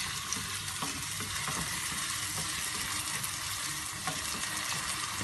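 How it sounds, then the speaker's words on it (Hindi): Finely chopped onions sizzle steadily in hot oil for a sarson ka saag tadka, a loud, even crackling hiss with occasional stirring scrapes. "गरम हो गया है, अब हम इसमें बारीक कटे हुए प्याज डाल देंगे।"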